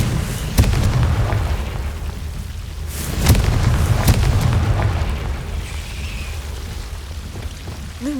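Confringo fire-blast spells in Hogwarts Legacy go off in several sharp cracks with deep rumbling booms between them, loud and near with no talk, followed by a quieter trailing rumble.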